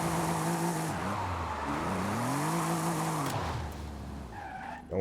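In Forza, a car performs a burnout, its tires squealing in long wavering pitched tones over a low engine drone. The squeal is fairly close and fades near the end, and no one speaks.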